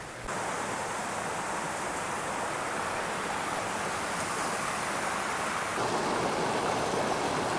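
Forest river on the Camino Portugués rushing in a steady, dense wash of flowing water, loud and unbroken throughout.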